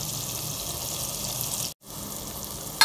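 Tomatoes and spices frying in a pan for white chana curry, a steady close sizzle with a brief cut partway through, then the sizzling resumes and ends with a sharp burst.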